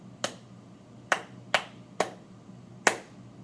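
Five sharp hand claps in an uneven rhythm, two quick pairs after a single opening clap, close and clean in a quiet room with no talking.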